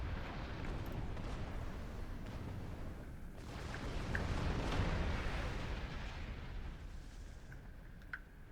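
Deep rumbling explosions and blast noise in a Star Trek video game, a sustained low roar that swells near the middle, with small sharp pops scattered on top.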